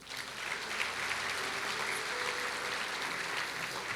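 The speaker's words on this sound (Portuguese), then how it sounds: "Dê um aplauso ao Senhor" Church congregation at a prophetic seminar claps together in a sustained, even burst of applause lasting a few seconds, fairly close and full, with no speech over it.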